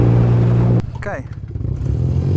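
A 1979 BMW R65 motorcycle engine idles loudly up close and then cuts off abruptly. A voice speaks over quieter engine chugging before the idle builds again.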